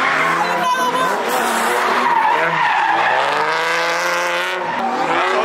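A Dodge SRT slides sideways with long tire squeal and smoke, a loud continuous skid over engine roar lasting several seconds, with excited voices talking over it.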